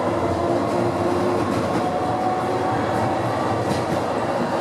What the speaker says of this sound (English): The trams are some really old second-hand trams from the 1950s.